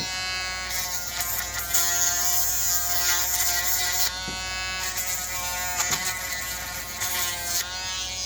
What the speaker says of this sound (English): So we're just going to grind that down a little bit.